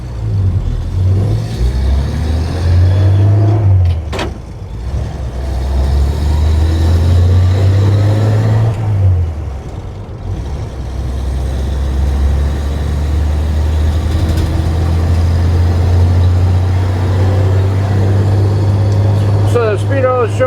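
1952 Chevrolet pickup truck cruising at around 46 mph: steady, loud, low engine drone from inside the cab, with shifts in pitch as the truck eases off and picks up speed, and a voice talking over it.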